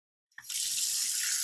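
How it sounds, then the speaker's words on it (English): Bathroom tap turned on into a sink with the stopper closed, water starting abruptly after a moment of silence and then pouring in a steady, close hiss. "turn on the water, wet our toothbrush"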